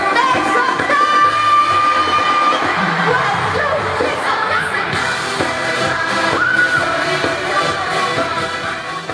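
A concert crowd at a K-pop show cheers and screams, a dense roar of high shrill voices with whoops and shouts rising and falling, heard from within the audience.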